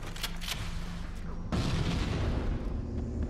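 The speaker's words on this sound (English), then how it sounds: "Hit the guy with a rocket launcher." Rocket launcher blast in Halo: Combat Evolved, a sudden loud boom that kicks in mid-clip over an already busy, rumbling backdrop of gunfire and game noise, with no talking.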